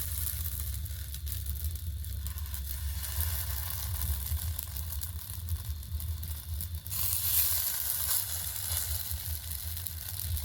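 Steady, moderate hissing sizzle as jaggery parathas lightly toast in a kadai over a lit stove, with a low hum underneath and a brighter rush of sizzle toward the end; no voices.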